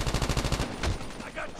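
Rapid automatic gunfire in Call of Duty Mobile, a burst of about eight evenly spaced shots followed by a heavy impact and fading game sounds, loud and close.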